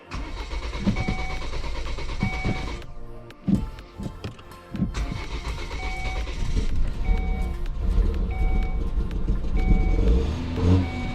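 A 2016 Volvo XC70 engine cranking and catching in bursts, a short quiet gap between attempts, then running and revving unevenly close by, loud and rough with clicks and rattles.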